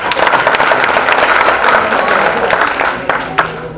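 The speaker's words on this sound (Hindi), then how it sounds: "हाजी जी के लिए जोरदार तालियां" A crowd at an award programme in Mumbai gives loud applause for an honored guest, dense clapping filling the space with a few sharper claps standing out near the end, while a voice can be heard faintly underneath.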